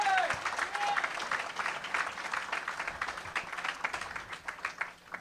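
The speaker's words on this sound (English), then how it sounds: "just another round of applause for Brent" At a comedy show tribute night for Teddy Ray, the audience gives a round of applause, a busy spread of clapping at moderate distance that gradually tapers off toward the end.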